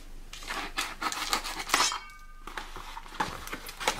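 A kitchen knife scrapes and saws through packaging during an unboxing of chili sauces, giving a run of close, dry scratching and rasping strokes with a brief pause midway.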